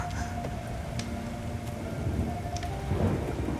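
A thunderstorm with steady rain pours down, rumbling thunder swelling under the constant hiss of falling water and a few sharp drips.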